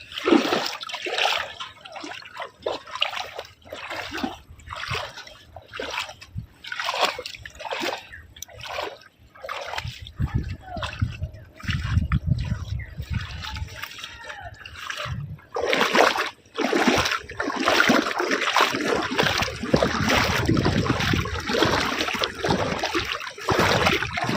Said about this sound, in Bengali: বাড়ি যেতে হলে তো আমাদের জলের মাঝখান দিয়েই যেতে হচ্ছে।